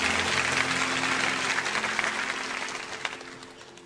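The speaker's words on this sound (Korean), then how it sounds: "우리 특송해 주신 귀한 분들 큰 박수로 한 번 더 축하합니다" A church congregation applauds warmly after a special song, a broad continuous wash of clapping that gradually tapers off, with a low hum underneath.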